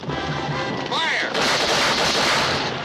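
Gunfire from a 1955 western film, Santa Fe Passage, erupts as a dense, loud volley that swells into sustained crackling battle noise, with a shout and a high cry heard briefly before it builds.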